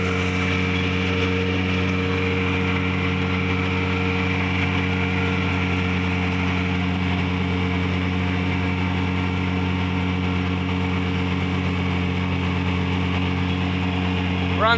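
A rebuilt vintage engine labouring steadily under hydraulic load, a constant droning hum with strong low harmonics that holds unchanged from start to finish, close and loud with no talk.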